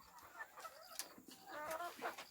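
Hunali golden chickens clucking on a farm, with several soft, scattered clucks and calls, close by and moderately faint, over a quiet background.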